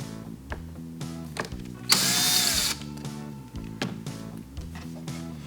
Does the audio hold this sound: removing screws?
yes